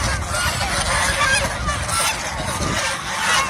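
Geese honking loudly and repeatedly as they are caught and loaded into a vehicle, the calls overlapping in a dense, continuous chorus close by.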